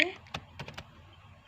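A few quick, close clicks and taps on a computer keyboard while entering data in SPSS statistics software, spaced unevenly over a moment of otherwise quiet room tone.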